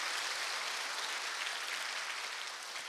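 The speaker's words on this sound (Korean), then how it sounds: "우리 박수" A church congregation applauds after a prayer at a lecture, a continuous even wash of many hands clapping, faint and distant, steady for about three seconds.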